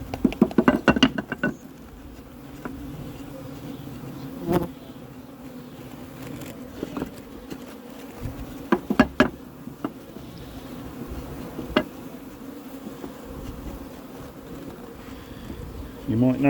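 Honey bees buzz steadily around a beehive fitted with a bee escape, a continuous close drone with occasional louder passes and faint handling knocks, no talking.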